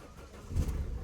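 A car engine catches and starts, a short low rumble swelling after a quiet moment, with no talking.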